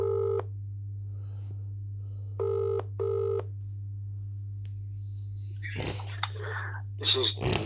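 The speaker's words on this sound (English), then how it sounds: "Ringing up Graeme Kenna." Outgoing call ringback tones over a steady low hum: one tone, a pause, then two more close together, followed by a voice beginning to speak.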